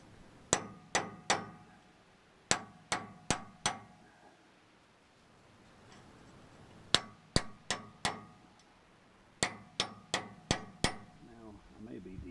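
A pinion seal is hammered into a rear differential with repeated sharp metallic strikes in quick groups of four to five, separated by pauses, loud and close in a quiet garage.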